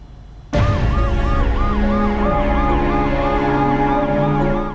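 An ambulance siren wails loud and close at the scene of a collapsed building during a rescue. It starts abruptly and keeps up a steady rising and falling cycle over engine rumble.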